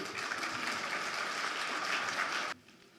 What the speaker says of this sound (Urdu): آپ کی بھرپور تالیوں میں صدف فریدی۔